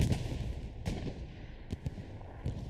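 Heavy artillery shells land in a World War II-style Hell Let Loose battle. A few dull booms and thuds rise from a steady rumble of combat, with distant gunfire and a faint constant tone underneath.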